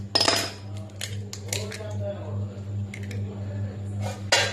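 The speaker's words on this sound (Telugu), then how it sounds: "దీన్ని బాగా మిక్సింగ్ చేయాలి." Gram flour batter with egg is beaten in a bowl, giving quick clinking scrapes of a utensil against the bowl in short bursts, close and moderately loud over a low steady hum.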